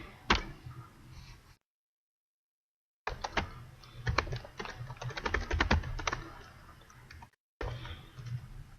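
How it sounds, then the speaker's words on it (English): Computer keyboard typing of code during a code-editor setup tutorial, with bursts of quick, uneven keystrokes that are close and clear, broken by two gaps of dead silence. "So type this code that says var x equals 5"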